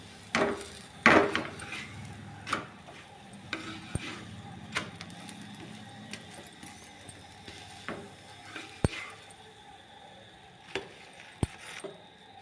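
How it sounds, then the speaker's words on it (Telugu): Moringa-leaf chapati roasting on a hot pan, flipped side to side, gives scattered light taps, wooden knocks and faint clinks over a soft low background, with one louder flurry near the start. "చక్కగా చపాతీలు అన్నీ ఈ విధంగా కాల్చేసుకోవాలి అటువైపు ఇటువైపు తిప్పుకుంటూ మాడకుండా నీట్గా కాల్చుకోవాలి"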